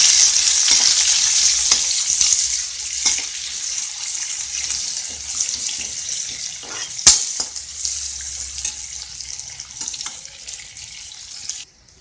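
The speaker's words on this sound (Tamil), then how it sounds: "அதோட வெங்காயம் சேர்த்து வதக்கணும்." Onions with curry leaves and dried red chillies sizzle and fry steadily in a pan for a drumstick and tomato curry, a continuous hiss broken by occasional stirring scrapes and one sharp clink.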